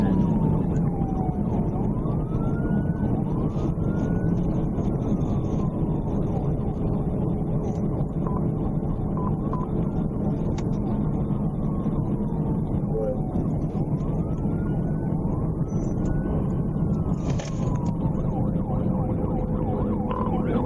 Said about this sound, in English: He immediately turned around, activated his emergency lights and siren, and attempted to stop the motorcycle.